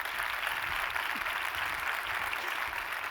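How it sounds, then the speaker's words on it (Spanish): Audience at a business marketing conference applauding a speaker, steady dense clapping throughout, fairly loud with no voices on top. "Pido un aplauso para Jenny Ramos"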